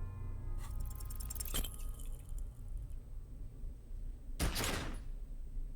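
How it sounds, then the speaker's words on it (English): Gunshot in the video game Disco Elysium: two sharp, loud bursts a few seconds apart, each with a brief ringing tail, over a quiet musical background. "I shot him."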